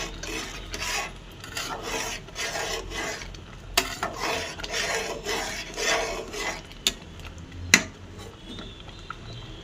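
A spoon stirs dal in a pan after a sprinkle of ground cumin, giving repeated close scraping and rubbing strokes with a few sharp clinks against the metal.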